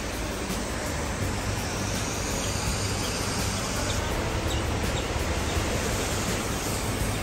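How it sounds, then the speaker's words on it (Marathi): A waterfall at Tamhini Ghat in the Western Ghats makes a loud, steady broadband rush of falling water that fills the whole stretch without a break, and no voices are heard. "काय वॉटरफॉल आहे यार, भारी."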